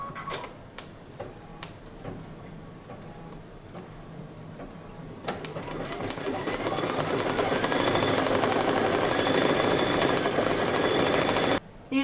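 An embroidery machine stitches a quilt block with Mylar: a few scattered clicks, then a steady, close mechanical whir that builds in loudness and runs continuously before stopping abruptly near the end.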